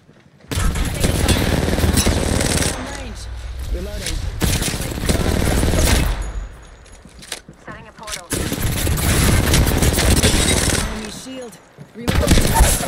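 Apex Legends gunfire: bursts of rapid automatic weapon fire in several loud stretches, separated by brief lulls, with a player's voice talking over parts of the action.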